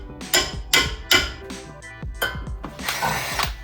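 Impact wrench accidentally triggered underfoot while doing brake work on a 2022 Honda Civic Si, several sharp hammering bursts followed by a longer buzzing run, close and loud.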